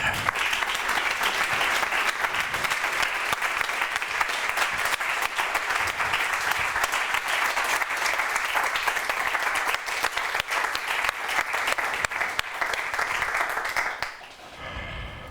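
An audience applauds to welcome Martin Pollack to the stage, a steady loud wash of clapping from a large crowd lasting about fourteen seconds before fading off abruptly.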